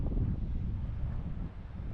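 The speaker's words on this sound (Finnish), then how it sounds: "Tuuli on vaan melkoinen täällä." Strong wind buffeting the microphone in a low, continuous rumble, gusting slightly but never letting up, on open fells in Urho Kekkonen National Park, Finland.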